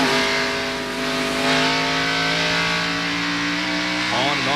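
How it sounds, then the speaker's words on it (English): A NASCAR stock car racing at Bristol in 1991 roars with a loud, sustained engine note that holds steady, then wavers and dips near the end as the driver lifts off the accelerator. "On and off the accelerator."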